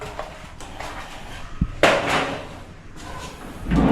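A plywood cabinet drawer on a plain, non-soft-close drawer guide is slid open and shut: a sharp knock, then a louder rolling slide, with softer handling noise and a final bump, close by in a quiet room.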